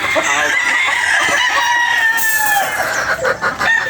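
Several chickens cluck and a rooster crows in a busy, noisy farmyard, loud and continuous, with no talking.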